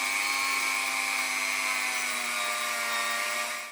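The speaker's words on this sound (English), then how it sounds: "We'll try it with the rotary tool." Rotary tool cleaning rust and grime off the wheels of a Hornby Thomas the Tank Engine model train, a steady high-pitched motor whine held close and loud without a break.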